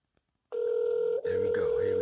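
On an outgoing telephone call, a steady electronic ringing tone starts abruptly after a moment of near silence and holds loud and continuous, with a faint, brief break partway through.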